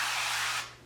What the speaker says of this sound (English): Spray very well the pan if you don't have any olive oil